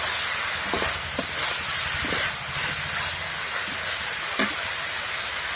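Okra hits hot oil and frying masala with a steady, loud hiss and sizzle that keeps on evenly, with a few soft clicks of stirring and no voices.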